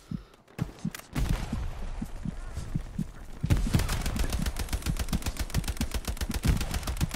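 Rapid gunfire in the World War II shooter game Hell Let Loose: sparse sharp shots at first, then a dense, continuous machine-gun burst with loud, punchy, closely spaced reports.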